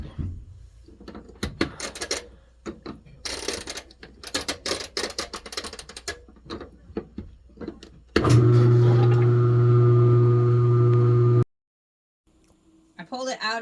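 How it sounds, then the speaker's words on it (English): A washing machine spinning out a felted dog hair scarf gives a steady loud motor whine with a strong hum for a few seconds. Clattering handling noises and talk come before it, and it cuts off abruptly. "then we will spin it out in the washing machine"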